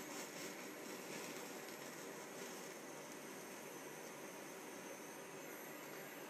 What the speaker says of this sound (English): On this here torch, you got to turn it on and light it with a lighter here.